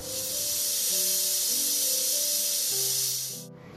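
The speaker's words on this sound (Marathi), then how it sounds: "1 शिट्टी होऊन कुकरचं प्रेशर निवलेलं आहे।" A kitchen pressure cooker with spinach and lentils inside vents steam through its whistle, a loud, steady hiss with a shifting tonal whistle that lasts about three and a half seconds and then cuts off.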